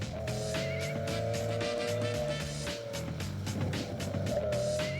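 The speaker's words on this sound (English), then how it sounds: "Scott Smith from Palo Alto, California cleans the stage in his Bill Arnold prepared M3" A Bill Arnold–prepared BMW M3 rally car drives a Targa Newfoundland road stage, engine droning through revs and gear changes with a brief tire squeal, heard from nearby.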